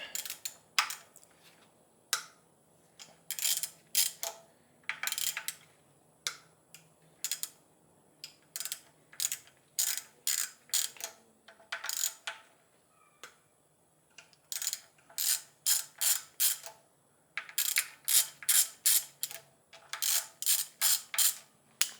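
A ratchet on a 12 mm socket loosens bolts on a BMW M54 engine during teardown, clicking in quick repeated bursts of ratcheting strokes separated by short pauses, close and clear in a quiet workshop.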